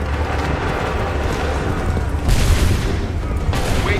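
Soldiers fire a volley of musket gunfire in Assassin's Creed III, a dense continuous rumble of shots and booms with louder bursts near the middle and end, with no clear talk over it.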